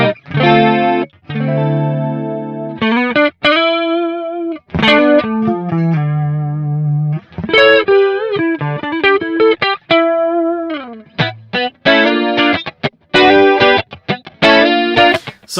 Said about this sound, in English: So there you have a nice chorus effect.